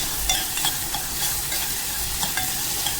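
Red chili powder and turmeric sauté in a pan, giving a close, constant sizzle with light scraping from stirring and small pops scattered through it, with no talk.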